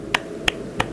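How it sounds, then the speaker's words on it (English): Three sharp, evenly spaced hand claps ring out close to the microphone over a low background hum, each one a crisp, brief snap. "I don't know if you can hear that, but I was clapping"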